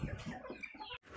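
Layer chickens cluck while feeding, heard as soft, faint, overlapping clucks and rustling with a brief gap near the end.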